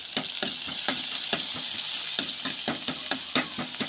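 Food frying in oil for a homemade mutton soup, a continuous close sizzle broken by regular crackling pops and stirring scrapes, with no talking.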